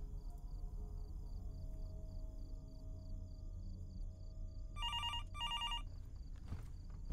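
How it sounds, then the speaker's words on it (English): A motel room telephone in the horror game Fears to Fathom rings in two short bursts late in the clip, moderately loud over a low ambient room hum, with no talking. "Was the phone really ringing?"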